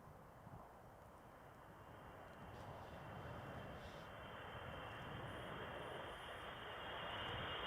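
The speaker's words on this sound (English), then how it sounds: "Is this plane foley?" Airplane engine sound effect in an album track, a steady broadband roar that slowly swells louder over several seconds, with a faint high whine appearing near the end and no voices.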